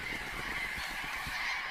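Flock of Patagonian parrots in the Atacama desert giving harsh, honking calls, many birds overlapping in a loud continuous chorus.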